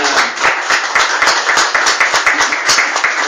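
Church congregation claps in a fast, steady rhythm, many hands close and loud, with rapid regular beats continuing throughout and little talking.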